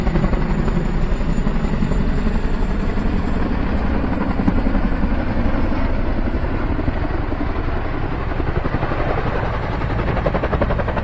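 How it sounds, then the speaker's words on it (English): A large firefighting helicopter passes overhead during wildfire season by the North Fork Clearwater River, its rotor thumping loud and steady throughout, close and continuous with no voices. "It's always interesting to watch those big helicopters"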